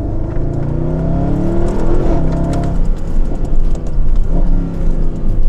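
A Mercedes SLS AMG sports car engine revs hard and loud, its roar rising and falling in repeated bursts with a throaty, aggressive tone.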